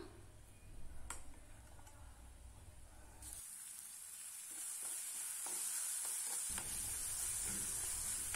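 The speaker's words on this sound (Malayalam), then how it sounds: "കറിവേപ്പില കൂടെ ചേർത്തിട്ട് നന്നായിട്ടൊന്ന് ഇളക്കി കൊടുക്കാം" Sprouts masala with curry leaves in a pan starts with soft stirring and scraping, then gives way to a brighter, steady sizzle, with a few light clicks of the spoon against the pan.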